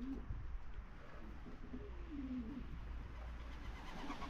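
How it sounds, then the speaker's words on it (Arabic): Homing pigeons give low, rolling coos over a steady background hum, a few soft calls rising and falling close by during a training session. "الحمام اللي باقي هز الريتم ها هو تبارك الله باقي"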